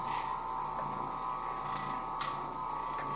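An Oreck Orbiter floor machine hums steadily as it scrubs sculpted carpet, a constant mechanical drone with a few faint clicks and swishes, no voices.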